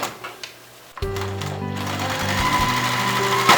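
A hand-cranked sewing machine stitches across a zipper seam on a tote bag, starting after a few soft handling knocks with a close, steady mechanical whir and rapid needle chatter that holds to the end.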